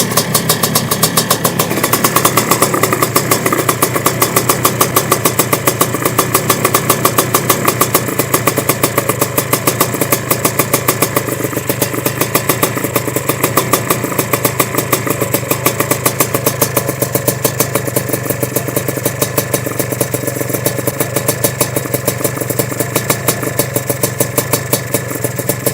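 Sledgehammer 333 engine running on its first start, a close, loud, rapid mechanical chatter with a steady idle pulse that continues for the whole stretch with no talking.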